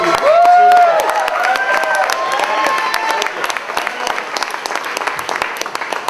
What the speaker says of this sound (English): So everyone give a round of applause for Bert.